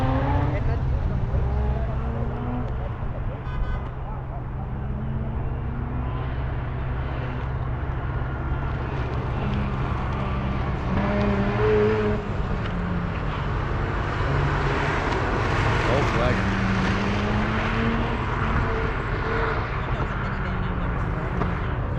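A Mazda RX-8 race car, running premixed fuel at a race day, drives past with a loud, continuous engine roar that swells and sustains throughout, while voices are faintly audible in the background.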